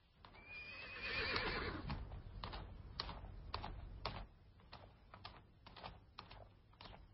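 A horse whinnies loudly near the start, its rising and falling call drawn out over a second, followed by irregular hoof clatter and shuffling as the animal moves about under a rider's reins, with no voices.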